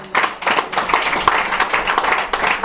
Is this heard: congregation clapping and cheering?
yes